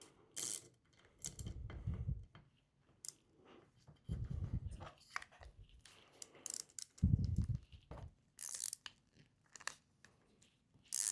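A screw cutting its own threads into a 3D printed ACRO mount for a Sig P320, giving repeated grinding, ratcheting crunches in short bursts with pauses between turns, close up.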